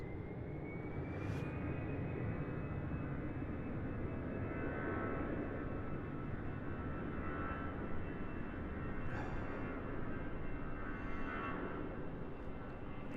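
An aircraft departs from Raleigh-Durham airport, a loud, steady, continuous engine roar with a rising whine, heard from a distance and unbroken for the whole stretch.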